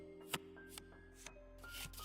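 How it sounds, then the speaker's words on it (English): Tarot cards shuffled in The Cosmic Wheel Sisterhood, heard as soft rubbing, riffling strokes with a few brief snaps, spaced about every half second over low, steady game music. No one speaks. "Focus on your pride and your compassion while I shuffle my deck."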